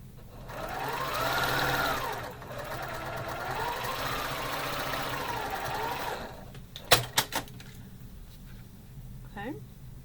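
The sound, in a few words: sewing machine joining quilt pieces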